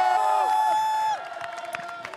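Audience applause and cheering at a Téléthon Gaming charity event closing, with crowd noise rising after a steady tonal sound and continuing as a moderate, scattered clamour to the end.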